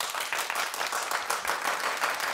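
Studio audience clapping in a steady burst of applause, dense and fairly loud, continuing evenly throughout without speech.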